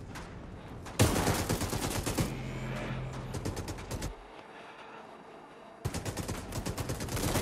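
Rapid bursts of gunfire in a Fortnite match crack out in dense volleys, pausing briefly mid-clip before resuming loud and close, with another player's shots mixed in.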